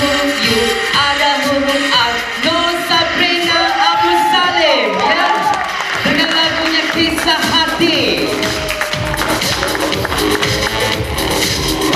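A crowd of children at a Kuala Lumpur primary school singing competition results event cheers, shouts and whoops loudly together, with sustained noisy excitement and voices in the mix.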